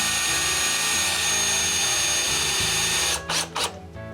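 A power drill drives screws through cedar boards into the base of a small cabin table, a loud, steady whirring hum that stops with a few short bursts near the end.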